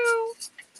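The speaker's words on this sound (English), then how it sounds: "The kitty's back." A cat lets out a short meow backstage at an NFL Draft watch party, followed by a few faint, brief chirping sounds.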